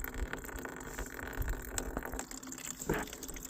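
Leftover water drains from the tank of a 320s camper trailer in a continuous gushing, splashing flow, fairly faint and steady throughout, with no talking.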